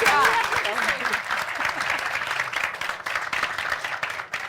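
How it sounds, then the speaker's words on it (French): Applause from a studio audience welcoming guests at a FESPACO film debate broadcast, a dense steady patter of clapping with a voice speaking briefly at the start. "Applaudissez pour vous."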